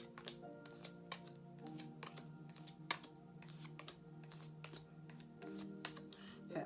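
Tarot cards shuffled repeatedly at close range in a steady run of soft riffling and slapping bursts, quiet and continuous with no talking.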